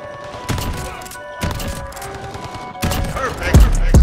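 Shotgun blasts from the compact VLK Rogue in Call of Duty: Modern Warfare, several sharp booming shots spaced apart, with the heaviest, closest two near the end, over quiet game ambience.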